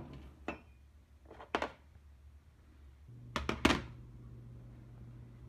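A Revere Ware stovetop percolator pot is lifted off the stove, giving a few sharp metallic clanks and thunks, loudest in a quick cluster near the end over a low steady hum.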